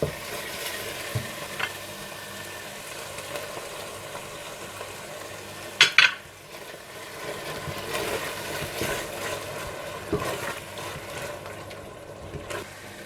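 Yogurt being stirred into a cooked tomato masala in a pan, with a steady sizzle and soft scraping strokes, plus a brief sharp clatter midway.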